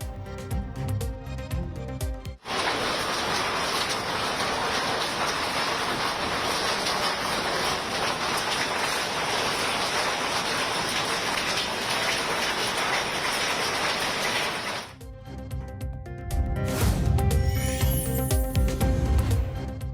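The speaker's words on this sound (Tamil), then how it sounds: "உத்தரகண்ட் மாநிலத்தின் பல்வேறு பகுதிகளில் வெளுத்து வாங்கும் கனமழை." Heavy monsoon downpour hammers down in Uttarakhand, a loud, dense roar of rain on surfaces that runs unbroken for most of the stretch, framed by brief other sounds before and after.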